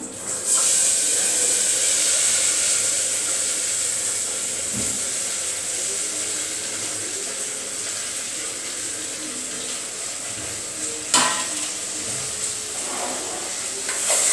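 Chopped okra (ladies finger) dropped into hot oil tempering, producing a steady, loud, close hiss of sizzling that holds almost unchanged throughout, with a few brief knocks and no voices.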